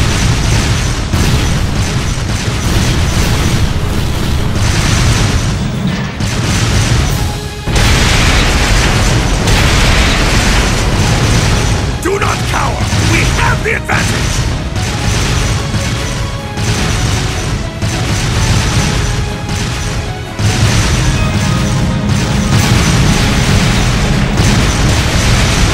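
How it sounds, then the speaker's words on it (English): Artillery barrage explosions in the video game Trails of Cold Steel II, loud continuous booms and bursts rolling over each other for nearly the whole stretch, with a couple of brief dips in the din. "Left flank, fire a barrage to cover your retreat!"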